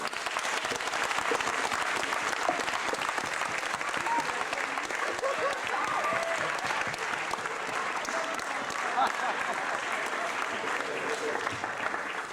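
Convention audience applauding Star Wars actors from England at the close of a 1995 Q&A, a dense, steady round of clapping from a large crowd, sustained at even loudness throughout.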